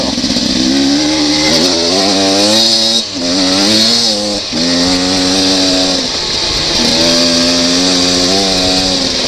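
A Beta 300RR two-stroke dirt bike on a dry trail, engine close and loud, revving in repeated rising pulls at half throttle with brief chops between them, alone without talk.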